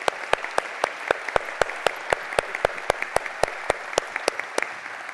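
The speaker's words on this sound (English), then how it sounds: "give a round of applause specifically to the group of staff who are here today that made this amazing event happen" Applause from a county address audience for the event staff, a steady run of sharp, separate claps over a softer wash of clapping, moderately loud and without voices.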